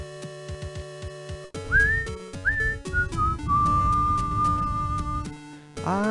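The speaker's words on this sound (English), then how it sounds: "I really suck at whistling and singing" Someone whistles a short, wavering tune with a few rising notes and a longer held tone. Steady background music from a game plays underneath.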